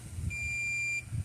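A multimeter gives a steady continuity beep while testing the cord of a Gallagher load bar weigh scale, a single clear tone lasting under a second over faint low background noise.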